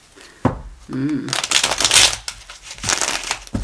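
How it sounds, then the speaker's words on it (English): Tarot cards riffle and slap together in quick bursts, close by, with someone talking over and between the shuffles. "I'm not happy with these shuffles."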